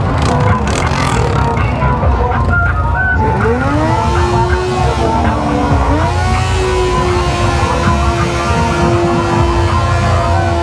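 A Honda Hornet motorcycle with a straight-pipe exhaust revs hard at a crowded event, loud and close, its engine note rising in sweeping climbs before settling into a sustained high drone amid background crowd noise.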